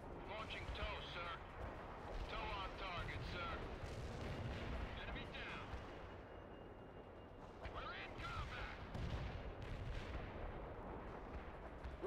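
A TOW missile launch in the World in Conflict game on a Soviet assault, heard as loud, dense booming and rumbling battle noise over about twelve seconds, with radio-style unit voices talking throughout.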